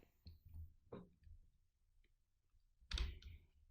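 A computer mouse clicks an OK button, with a few faint, dry clicks spread through a quiet moment and one sharper click near the end.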